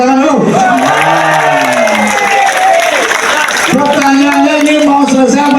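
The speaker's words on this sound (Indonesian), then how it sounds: "tepuk tangan dulu." A crowd at a Bali gubernatorial and regent election campaign event claps and cheers loudly, with continuous shouting and voices over the applause throughout.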